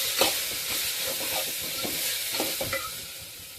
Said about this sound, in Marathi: त्यानंतर हळद पावडर, परत त्याला मस्त म्हणजे फ्राय करून घ्यायचं।